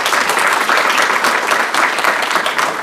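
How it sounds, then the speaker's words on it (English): Conference audience applauding students: steady, dense clapping from a crowd throughout, loud and sustained with no pauses. "I think we need an applause for that"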